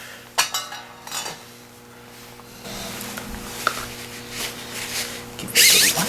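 Metal clinks and scrapes as an auger is worked off a snowblower's drive shaft, with a few sharp taps, a low steady hum and a bright rattling burst near the end.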